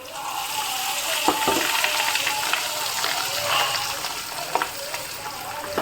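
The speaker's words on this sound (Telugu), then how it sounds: "ఇప్పుడైతే ఫ్రై చేస్తున్నాను ఫిష్ ఫ్రై అనమాట" Fish fries in a pan with a dense, steady sizzle that stays close and fairly loud, broken by a few soft clicks of a utensil, with no talk.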